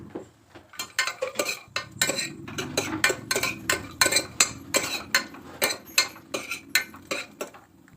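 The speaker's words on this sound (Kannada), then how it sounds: "ಹೆಸರು ಬೇಳೆನ ಹಾಕ್ತಾ ಇದ್ದೀನಿ. ಹಾಕ್ಬಿಟ್ಟು ಎಣ್ಣೆಯಲ್ಲಿ ಚೆನ್ನಾಗಿ ಹುರ್ಕೊಬೇಕು." A spoon or spatula stirs moong dal frying in oil in a pan for Pongal, giving a rhythmic series of close scraping clinks against the metal over a faint low background, with no speech.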